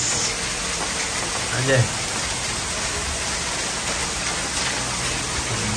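Steady rain falls outdoors in Florida, an even hiss that runs throughout, with a person speaking briefly over it.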